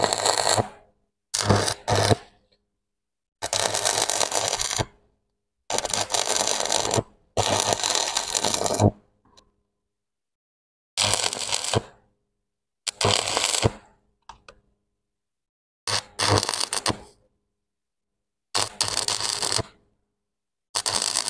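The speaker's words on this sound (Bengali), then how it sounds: "এভাবেও আমরা স্পট ওয়েল্ডিং করতে পারি" An arc welder with a stick electrode lays down a series of spot welds, each a loud crackling burst of about a second, separated by short silences, repeated roughly ten times at close range with no talk.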